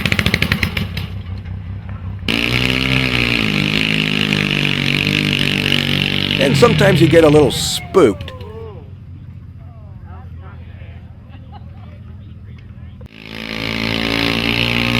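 Powerful pulling tractors roar at a tractor pull in Ilderton, Ontario, their loud engines droning and revving in long sustained bursts, with a sharp surge midway, while someone talks over the noise.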